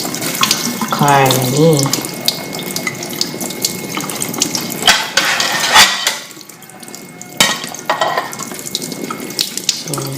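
Tap water runs steadily into a sink as T-bone steaks are washed before a stir-fry, a loud continuous splashing flow with brief clatters. Someone speaks briefly over the running water.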